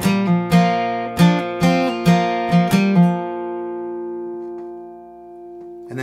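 Acoustic guitar plays a worship song riff up close: a run of about seven plucked notes with pull-offs in a quick rhythm, then a final note left ringing and fading, with no voice.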